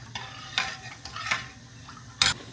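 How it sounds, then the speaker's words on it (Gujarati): Curd kadhi mixture stirred in a pan over high gas, with a few soft scraping strokes and a sharper clink of the utensil, near and fairly quiet. "તો આને હવે ફાસ્ટ ગેસ પર મિક્સ કરતા રહેવાનું છે, નકર આ ફાટી જાય છે દહીં."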